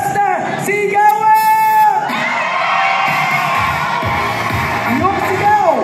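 A political rally crowd in Malabon shouts and cheers loudly, with whoops and bellowing voices rising and falling over a near, continuous roar of people.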